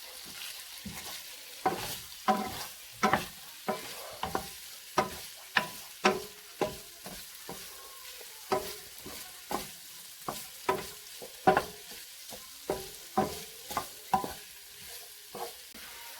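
Spicy pork sisig sautés in a pan under repeated stirring, each scrape of the utensil against the pan coming in a steady rhythm over a soft background sizzle.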